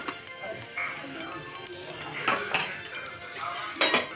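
Chicken biryani is mixed in a pot, with metal utensils scraping and clinking against the cookware in scattered sharp bursts over quiet background noise.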